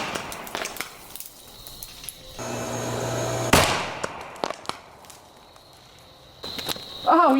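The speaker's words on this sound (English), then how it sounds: "Oh yes, it completely detonated in there." Four hundred car batteries wired together detonate in a sharp, loud burst of crackling sparks that fades into scattered pops and rustles, with a final crackle near the end.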